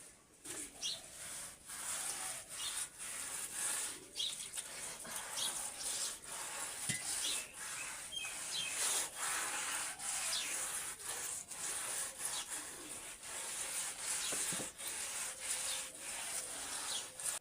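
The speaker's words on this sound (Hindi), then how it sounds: "अभी हम घर को नीप रही हूँ।" A floor in a home is smeared and rubbed by hand as it is plastered, a steady scraping, swishing friction in repeated strokes that stays close and fairly loud, with no talking.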